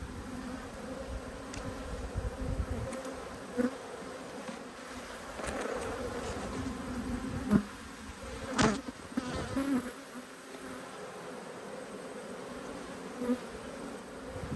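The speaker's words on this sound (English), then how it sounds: "So lots of young bees in here." Honey bees swarm in a dense, steady buzz over an opened, agitated hive full of young bees, the drone close and continuous with occasional louder passes near the listener.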